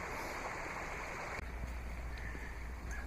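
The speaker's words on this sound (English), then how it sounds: "I got the nice babbling stream over here on the right." A babbling stream runs beside a countryside trail at Champion Creek, giving a steady broadband wash of flowing water that continues throughout, with a brief knock partway through and no talking.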